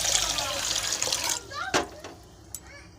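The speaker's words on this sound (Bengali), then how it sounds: "এই সাবুটাকে আমি ভালো করে এবারে জল দিয়ে ধুয়ে নেব" Water pours from a tap onto small sago pearls being rinsed in a bowl, a strong gushing flow that stops partway, followed by a few faint drips and clinks.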